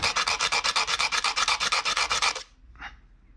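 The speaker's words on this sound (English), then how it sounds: "First, I gotta sand that end of the wooden dowel." Sandpaper rubbing back and forth on the end of a wooden dowel, a fast, steady run of about twenty close rasping strokes, then stopping, with one brief scrape after a pause.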